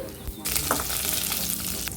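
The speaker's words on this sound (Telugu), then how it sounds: "ఆవాలు జీలకర్ర మినపప్పు శనగపప్పు ఎండుమిర్చి వేసుకొని ఫ్రై చేసుకోవాలి" Steady, loud crackling sizzle of mustard seeds, cumin, urad dal, chana dal and dried red chillies frying in hot oil, with a few sharper pops, continuous throughout and no talking.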